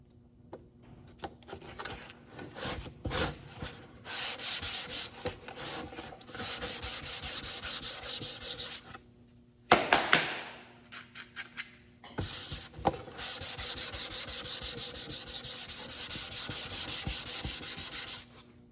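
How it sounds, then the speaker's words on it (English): Rough, rhythmic scratching of sandpaper on a flexible block rubbed back and forth over primer on a car panel, coming in long bursts separated by short pauses, close and fairly loud. "when I'm sanding this, what it does, see how it flexes around that panel?"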